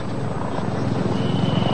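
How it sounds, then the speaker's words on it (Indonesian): A police patrol helicopter's rotor thumps in a steady low drone over Jakarta, moderately loud and continuous with no voices. "nampak sudah ada helikopter patroli milik kepolisian"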